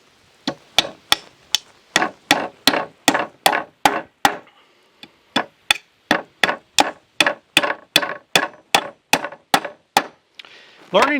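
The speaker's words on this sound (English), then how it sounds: "tilting the hammer when you're building these hive boxes like this allows the nail to go in" Repeated sharp hammer blows strike nails into wooden beehive boxes in a steady rhythm, about twenty loud knocks with a brief pause midway, close to the listener.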